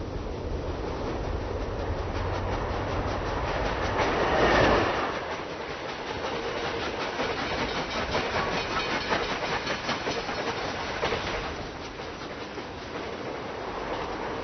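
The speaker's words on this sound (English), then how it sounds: "a train loaded with cultural relics moved out of the major railway station in Peiping" A train rumbles along the rails with steady clattering and hiss, swelling to a louder rush partway through before settling back to a constant roll.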